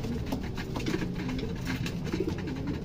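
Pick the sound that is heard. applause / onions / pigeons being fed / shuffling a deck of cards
pigeons being fed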